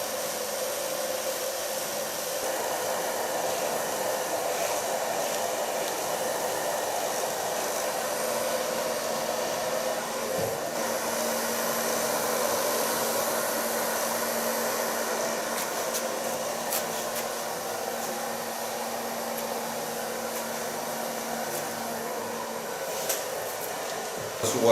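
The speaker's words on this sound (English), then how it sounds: "Start blow drying in the neckline, building up to the front." A hair dryer runs steadily and close for the whole stretch, a continuous breathy roar with a faint whine, blow drying a bob haircut with slight shifts as the airflow moves.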